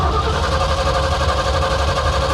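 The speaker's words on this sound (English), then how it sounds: "now just turn the key on and crank it" A car engine with Ford TFI ignition being cranked with the key, producing a steady, even churning drone from start to finish at close range.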